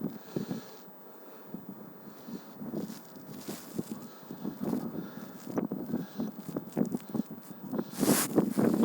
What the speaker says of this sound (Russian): Сегодня дует сильный ветер, северный ветер.